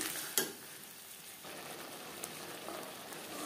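Katla fish curry ingredients with potato being stirred and fried in a pan, giving a soft continuous sizzle with a few faint spoon scrapes and taps, quiet and close, with no talk.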